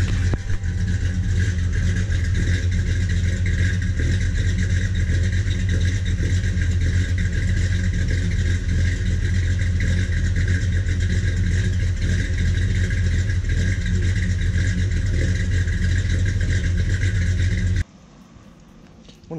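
A car engine idles very low and rough, close and steady, sounding as if it is close to stalling, before cutting off abruptly near the end.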